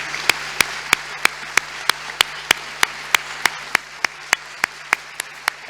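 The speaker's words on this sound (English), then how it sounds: "to just to have a round of applause for the former rector Mînzatu" At a university event on European universities, single sharp claps ring out in a slow, perfectly even beat, close and distinct against a quiet hall, a round of applause for a former rector.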